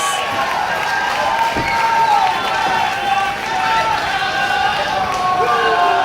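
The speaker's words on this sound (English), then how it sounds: "Listen to this crowd as they try to get Watson the energy to tag in Frescomatic" Wrestling crowd cheering during a tag-team match, a loud sustained roar from a packed arena with a commentator talking over it.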